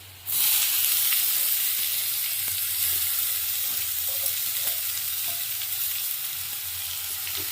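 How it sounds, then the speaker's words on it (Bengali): Beetroot and onion frying in hot oil, a steady close sizzle and hiss running throughout with occasional faint stirring clicks, no voices. "তেলের উপরে পেঁয়াজটাকে একটু লাল লাল করে ভেজে নেবো"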